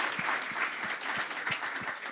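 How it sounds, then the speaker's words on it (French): An audience applauds in a dense, continuous wash of clapping that holds at an even level for a couple of seconds, fairly close and full. "Est-ce qu'on peut acclamer,"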